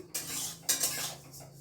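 Spices being warmed in a pan in a home kitchen, with a close, continuous scraping and rattling of a spoon or spatula against the metal, two louder bursts of stirring standing out.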